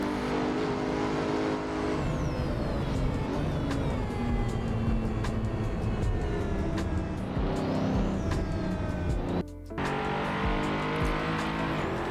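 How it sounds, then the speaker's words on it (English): A Pagani Huayra sports car laps a racing circuit, its engine loud and close, revving up and down through gear changes with a brief drop near the end before pulling hard again. "This is the first time I'm driving the Huayra on this, and this car is pretty fun to drive too"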